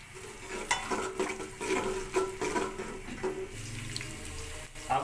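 Sliced onions hit a pot of hot ghee, about one and a half cups, while cooking a chicken vegetable pulao, giving a loud, steady, close-up sizzle and crackle throughout, broken by a few knocks and stirring scrapes, with no voices.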